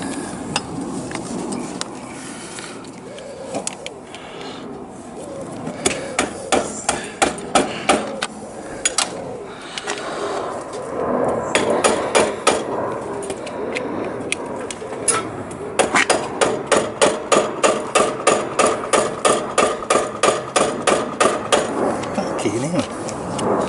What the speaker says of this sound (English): You might need a bigger hammer.